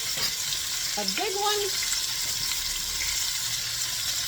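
Meatloaf browns in a pan on the stovetop, a steady close sizzle running throughout, with a brief rising squeak-like tone and faint clatter near the start.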